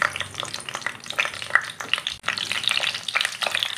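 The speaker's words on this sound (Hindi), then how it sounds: "तेल हमारा गर्म हो चुका है, इसमें हम बैंगन को पहले फ्राई करेंगे।" Eggplant pieces fry in hot oil in a non-stick kadai over a full flame, a close, lively sizzle with bubbling crackle and bright spitting pops throughout.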